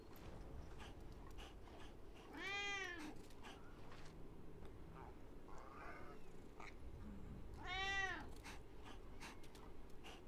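A pet cat meows twice with drawn-out, wavering calls about five seconds apart, fairly faint over a soft background hiss, with a shorter chirping murmur between them.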